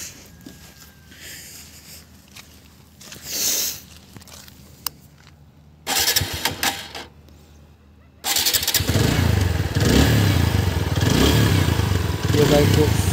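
A TVS Apache RTR 160 4V motorcycle with about 45,000 km on it starts up after quieter moments and then runs loudly and steadily at close range until the end, with brief noisy bursts beforehand.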